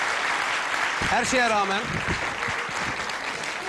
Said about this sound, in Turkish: Alkışlamayın ma.